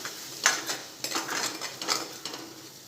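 Yogurt and gram flour paste being stirred into cooked masala in a pot for rajma, with a spoon clinking and scraping against the pot in a few distinct strokes, close and fairly quiet.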